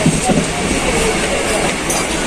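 Steady rumble and rattle of a local train in the Mumbai area, bound for Badlapur, moving along the tracks, a continuous close noise with no clear voices on top.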